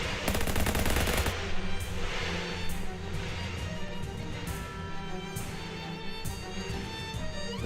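Gunfire in the video game Shadows Over Loathing: a loud, rapid machine-gun burst at the start, then fainter repeated shots over a steady game soundtrack.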